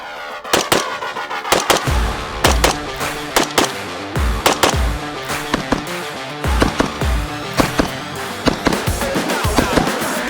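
A Cox Arms EMR-1 rifle fires a rapid, uneven string of about twenty loud, sharp shots outdoors, each crack close and punchy with brief gaps between bursts.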